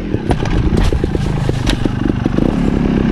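A trials motorcycle crashes in a burst of clatter, scraping and short engine revs, loud and close with no talk.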